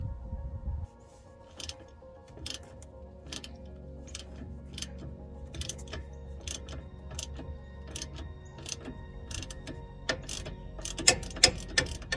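Bolts being worked loose on a Jeep CJ steering shaft, heard as close, quiet ratchet ticking in irregular runs over a low steady hum, with the clicks quickening near the end.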